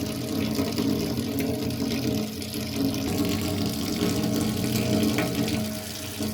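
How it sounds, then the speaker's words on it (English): Water runs steadily into a kitchen sink and drains away, a continuous close hiss and gurgle that holds at an even level with a slight dip partway through, with no talking. "at least now the sink in my kitchen is draining"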